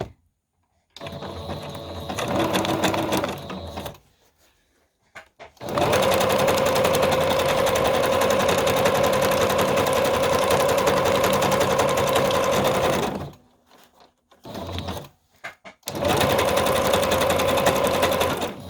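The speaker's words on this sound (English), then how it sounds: "we're going to stop sewing on this piece and with the brown thread" A sewing machine stitches a collage piece with brown thread in loud, rapid mechanical runs, interrupted by several pauses and short bursts. It sounds close, with no speech heard over the machine.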